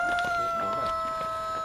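Chickens in a highland village near Bac Ha cluck and squawk close by in short irregular bursts over a steady background hum, with no voices.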